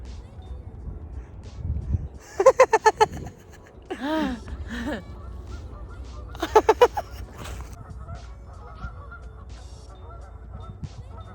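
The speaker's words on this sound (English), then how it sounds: "Some geese arguments going on." Geese honk in two loud, rapid bursts of repeated calls, with softer squawking between them against a quiet outdoor background.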